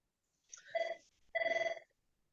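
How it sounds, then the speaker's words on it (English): An old telephone's bell rings twice indoors, two bright metallic trills about a second apart, then falls silent. "I have never been able to figure out how to silence this phone. There we go. 2 rings and it's done."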